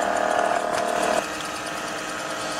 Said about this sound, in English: I'm still grinding the stone at 40 degrees, you see.